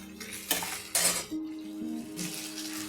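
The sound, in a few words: covering a pot of cooking fish with a lid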